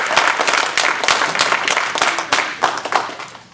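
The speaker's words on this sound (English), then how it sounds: "give yourself a round of applause for that" An audience at a fall speech evaluation contest gives a round of applause, bright, close, steady clapping from many hands that swells briefly and then starts to fade.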